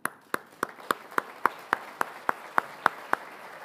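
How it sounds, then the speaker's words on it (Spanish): Slow, evenly spaced single claps ring out one after another, about a dozen sharp distinct hits in a steady rhythm at a budget practices event, sounding like one or two people clapping in a quiet room. "Y le damos un aplauso a él también."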